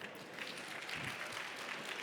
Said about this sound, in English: Can we get one round of applause for Sergey once again?